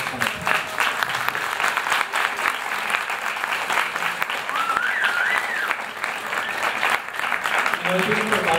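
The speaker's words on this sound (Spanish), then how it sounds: "por favor un fuerte aplauso a nuestros panelistas" Loud, sustained applause from an audience for the panelists at a natural history museum event on biological collections, steady throughout with a few voices and whistles mixed in.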